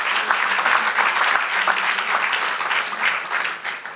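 A church congregation claps together in strong, steady applause during a Spanish-language sermon, filling the room without any speech on top.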